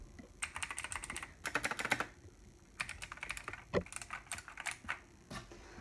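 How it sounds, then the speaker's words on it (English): A mechanical computer keyboard at a gaming desk clatters in quick bursts of crisp, close keystrokes, pausing briefly between runs of typing, with no one speaking. "my keyboard's mechanical"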